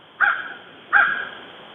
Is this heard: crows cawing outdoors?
yes